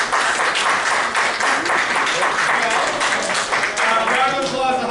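A theater audience at a fan convention sketch show in Proctors Theater, Schenectady, breaks into loud sustained applause and cheering, a dense wash of clapping that swells and holds.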